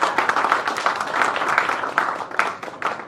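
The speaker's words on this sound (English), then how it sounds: "Let's give it a round of applause." A crowd claps together in a brief, lively burst of applause, many hands overlapping and fading slightly toward the end.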